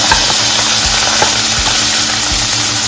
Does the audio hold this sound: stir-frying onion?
yes